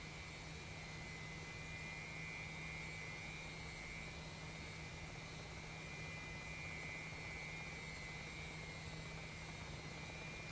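A Ka-50 Black Shark passes overhead in a flight video game, producing a steady, loud engine roar with a constant whine that holds evenly throughout without fading.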